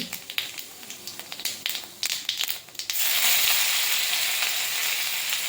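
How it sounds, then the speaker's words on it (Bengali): Cumin seeds hit hot oil for a tempering, starting with a few sharp crackles and pops before breaking into a loud, steady sizzle that carries through the rest of the clip, close and with no talking. "আবার প্রয়োজন মতো তেল দিয়ে দিলাম। ফোড়নে দিয়ে দিচ্ছি জিরে"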